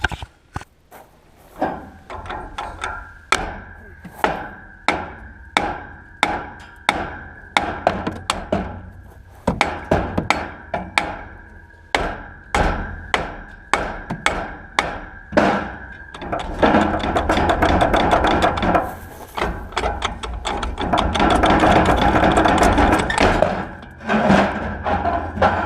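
A hammer strikes the rear hub of a 1963 Chrysler Newport in a long run of sharp metallic blows, close and loud, spaced steadily at first and then quickening into rapid strikes.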